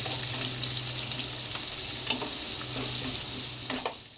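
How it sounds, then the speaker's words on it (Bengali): Chicken pieces with chopped chillies fry in a pan, a steady close sizzle with occasional soft stirring scrapes under a low background hum, no talk. "এটাকে আমি একটু না ভালোই আমি লাল করে ভেজে নেবো।"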